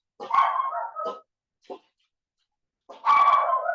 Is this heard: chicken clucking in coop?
no